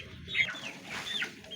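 Chickens and roosters kept by a breeder clucking in a short, faint burst of two or three calls, heard at a modest distance with no talking over them.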